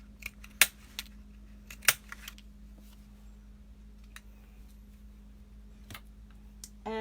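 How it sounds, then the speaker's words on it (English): A half-inch paper punch snaps through card to cut out centers, giving two sharp, close clicks early on and a few fainter taps and rustles of paper over a steady low hum. "I am going to use my 1/2 inch punch and just punch a center out for each of the cards."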